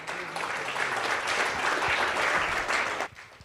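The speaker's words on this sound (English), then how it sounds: "round of applause for Zbyszek for putting this event together with his crew" Sustained round of applause from a conference audience at the 60 Million Congress in Miami, dense even clapping for about three seconds before cutting off abruptly into quiet room sound.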